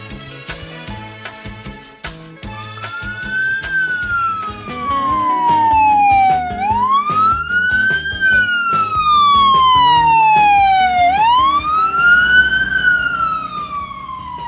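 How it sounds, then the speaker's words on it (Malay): A loud wailing ambulance siren rises and falls in long sweeping cycles, growing louder as it speeds past, with a vehicle engine rumbling underneath. "Bukan main laju ambulans tu."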